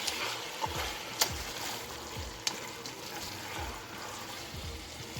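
A thick tomato mixture stirred in a pan over medium heat for a Moroccan-style dish, giving soft, repeated scraping strokes over a quiet, steady sizzle.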